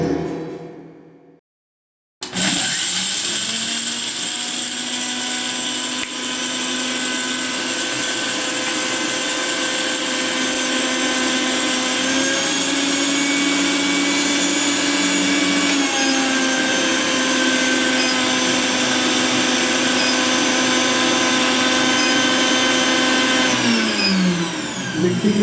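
A mixer grinder running on an inverter system in eco mode whirs steadily and loudly for over twenty seconds after a brief silence, its motor pitch dipping slightly under load before it winds down.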